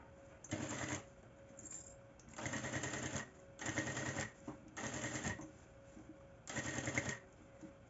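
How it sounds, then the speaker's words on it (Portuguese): A sewing machine stitches fabric, running a safety seam while applying bias binding to a pouch, in five short close bursts of rapid whirring separated by brief pauses, with no talking. "agora a gente vai costurar também, fazer uma costura de segurança aqui nessa parte"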